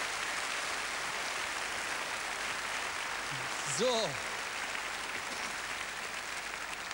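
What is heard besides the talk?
studio audience applause on a TV show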